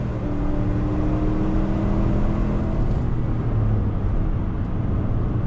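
A 2021 GMC Yukon AT4 full-size SUV with a 10-speed automatic accelerating on throttle, its engine drone steady and close with a low rumble and road noise throughout, no talking.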